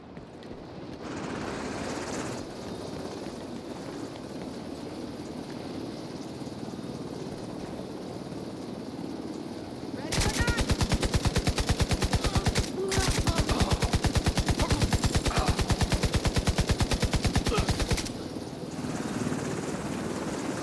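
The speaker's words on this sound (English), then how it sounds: "I can't remember where the other helicopter lands." A helicopter drones steadily in the video game Tom Clancy's The Division 2, then loud bursts of rapid automatic gunfire rattle over it for several seconds before the rotor hum continues alone.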